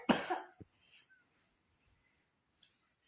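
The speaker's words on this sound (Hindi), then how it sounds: "इन दोनों को रखी है खांसी।" A child coughs close by at a family home during Holi celebrations, one harsh burst followed by a short second cough, then near silence with a faint cough far off.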